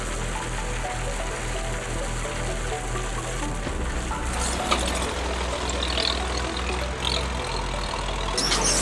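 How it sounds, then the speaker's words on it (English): A heavy crusher machine's engine roars in a constant low drone, with a hissing, churning rush of fast-rotating blades layered over it. "The blades rotate extremely fast, creating a rumbling sound combined with the powerful engine noise"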